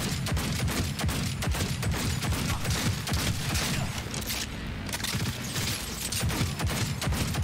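Dense, rapid gunfire with bullets cracking and impacting keeps up almost without pause in the video game Cyberpunk 2077, loud and close, forming a continuous barrage of overlapping shots with no talking.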